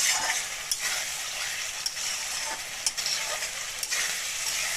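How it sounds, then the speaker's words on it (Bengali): Spice paste for an okra and gram flour curry frying in oil, a continuous bright sizzle broken by occasional sharp stirring scrapes and clacks, close and fairly loud, with no talking. "এবার আমি খুব সুন্দর করে এটা দু মিনিট ধরে কষাবো মশলাটা আমার কষানো হয়ে গেছে"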